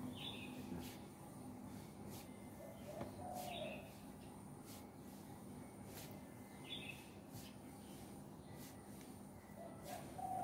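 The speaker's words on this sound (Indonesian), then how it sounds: "Sambil dengerin itu tekukur, tekukur ya." A spotted dove coos softly at a distance in repeated short phrases, over a constant hum of background noise, with faint chirps.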